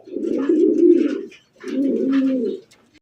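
Fancy racer Gola pigeons at a seller's loft give two long, low, throaty coos in a row with a brief pause between, close and loud.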